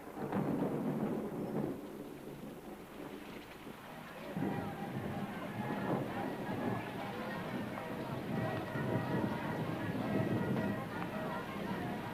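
Rain falls steadily outdoors by a village bowling green, with thunder rumbling loudly throughout in a continuous, heavy wash of rain and low rolls.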